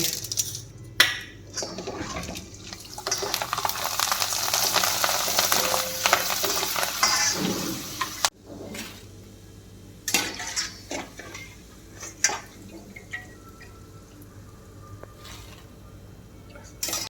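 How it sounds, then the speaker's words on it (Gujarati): Small bhungli pipe snacks deep-frying in hot oil in a pan for mamra chevdo, a loud steady sizzle for about eight seconds that then thins to sparse crackles and occasional clinks of a utensil against the pan. "તળવા માટે આપણે વાસણમાં તેલ લીધું છે અને સૌથી પહેલા આપણે આ નાની ભૂંગળી છે એ કરીએ"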